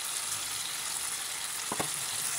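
Spices such as red chilli, dried fenugreek, salt, dried coriander and cumin fry in a pan for chicken biryani, giving a steady close hiss with a couple of brief stirring scrapes near the end.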